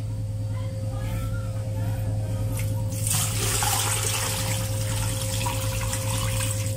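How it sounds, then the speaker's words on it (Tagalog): Water streams from a tap into a cooking pot over a steady low hum, the pour swelling louder partway through, with a voice talking faintly underneath. "At lalagyan na natin ng tubig."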